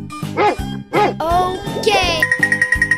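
A cartoon dog barks twice in a playful animated style, then jingly chimes and a rising sparkle effect follow, ending in a quick string of bright tinkling pulses.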